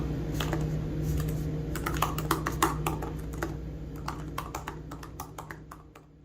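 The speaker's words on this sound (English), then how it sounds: "the keyboard on this laptop is not exactly a mechanical keyboard, but it has a very satisfying feel to it." Rapid, uneven typing on the keyboard of a Lenovo Slim 7i Carbon laptop, soft popping key presses in quick close bursts over a steady low background hum, with no one talking.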